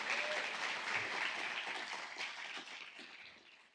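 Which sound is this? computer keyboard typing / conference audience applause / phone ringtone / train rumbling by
conference audience applause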